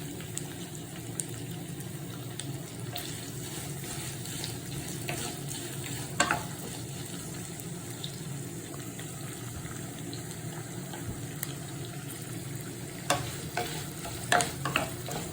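Steady sizzling of onions sautéing in a hot pan with occasional stirring scrapes, continuous and fairly close, no voices.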